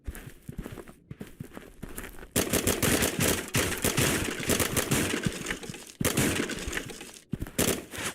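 Rapid bursts of video game gunfire crackle loudly and densely, with sharp shots and breaking, glassy impacts coming in clusters, plus brief pauses, and no talking.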